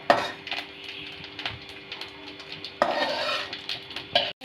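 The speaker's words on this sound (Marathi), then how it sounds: "यामध्ये आपण खोबरं चांगल्या प्रकारे लाल होईल असं भाजून घेऊ" Coconut being roasted in oil in a kadhai, heard as busy scraping and clinking of a spoon against the pan over a soft constant sizzle, with a brief sharp bump near the end.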